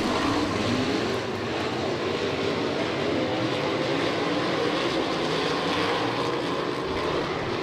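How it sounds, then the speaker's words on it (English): Non-wing 410 sprint cars race at Kokomo Speedway, a loud, continuous engine roar that stays steady throughout with no talk. "The non-wing 410 Sprints come out of turn 4."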